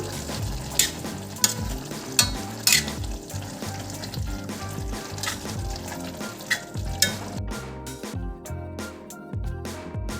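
Tomato, onion, dried chilli and ginger-garlic paste fry loudly in a pan for Andhra-style chicken fry, with steady sizzling, crackling spits and intermittent stirring scrapes; no one speaks.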